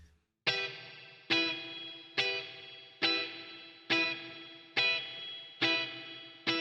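Guitar played through the HoRNet Springverb spring reverb plugin: seven evenly spaced struck chords, each ringing out with a bright, decaying spring-reverb tail before the next.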